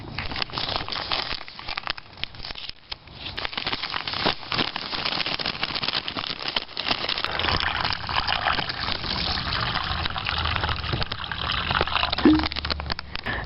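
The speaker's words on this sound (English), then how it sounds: "we're adding 12 ounces of water to this" Water is poured into an MRE orange drink pouch, a continuous close gurgling and splashing with plastic crinkling, steady for several seconds and slightly louder toward the end, with no talking.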